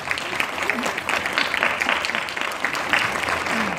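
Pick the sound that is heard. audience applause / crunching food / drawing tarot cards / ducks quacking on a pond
audience applause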